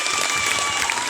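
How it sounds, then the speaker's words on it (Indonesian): Audience applause for student council candidates at a junior high school final debate in Amlapura, a dense burst of clapping from a crowd, brief and continuous. "Iya, tepuk tangan"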